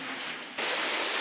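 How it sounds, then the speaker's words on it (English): A small waterfall that leaves calcium deposits on the rocks pours with a steady, hissing rush of water. The sound grows suddenly louder and brighter partway through, as if drawing nearer. "Oh, little waterfall."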